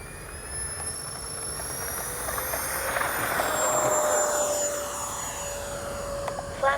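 Freewing twin 70mm EDF AL-37 radio-controlled jet taking off in calm air, a steady high-pitched ducted-fan whine that builds and rises in pitch as it accelerates, loud and close, with no talk.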